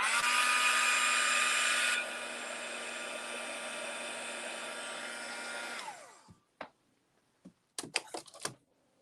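A hair dryer runs steadily and loudly for about six seconds while drying paint on a simple wooden sign, then winds down and stops, followed by a few sharp handling clicks and knocks nearby.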